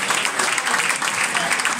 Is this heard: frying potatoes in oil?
no